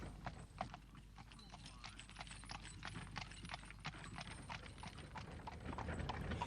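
Horses pulling carts clip-clop steadily along a road in rural West Cork, Ireland, in 1975, the hooves forming a continuous rhythmic patter with faint rattling of cart wheels and gear in the background.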